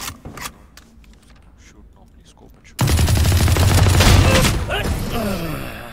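Valorant gunfire: a few quiet shots, then a sudden loud burst of rapid automatic fire that keeps rattling for several seconds before tapering off.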